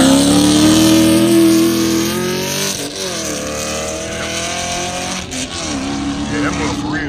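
A Hellcat Redeye races a modded Camaro SS with intake, tune and wide tires, engines roaring loud and sustained with shifting pitch sweeps as they accelerate, voices talking over the noise.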